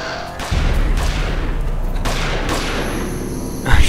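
Bursts of rapid gunfire and booming shots from the video game Jurassic Park: The Game fill the clip, loud and dense, with a heavy thump near the end.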